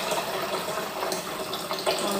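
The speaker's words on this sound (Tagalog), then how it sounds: "Lagyan na natin ng tubig. Yung tubig na warm lang siya, guys. Warm water." Warm water is poured in while cooking Arabic macarona bechamel, a soft continuous splashing gush, fairly close and moderately quiet.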